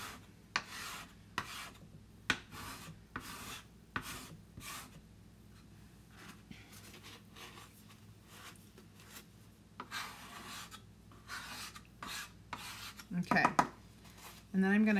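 A scraper drags repeatedly across a surface coated in thick wet chalk paste, making rhythmic rasping strokes at close range, with a louder scrape near the end.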